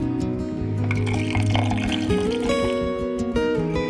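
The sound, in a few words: pouring milk into ground oats paste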